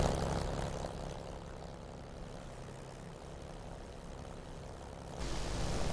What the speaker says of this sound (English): I'm going to taxi to the runway, which is a grass runway.